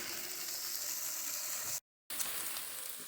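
Potatoes and vegetables saute in garlic and butter with a steady, soft frying hiss, close and fairly quiet, cut by a brief gap of silence before the sizzle resumes.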